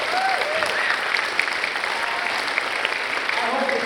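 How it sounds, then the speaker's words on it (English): A concert audience applauds steadily for young performers, a dense, even wash of clapping that holds throughout with a few brief tonal notes drifting over it. "Give yourself a big round of applause."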